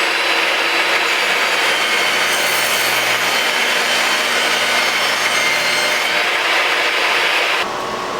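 Table saw ripping plywood boards 5.5 inches wide: a steady, loud, close whine of the blade biting through the sheet, holding nearly unchanged for several seconds before easing off at the end.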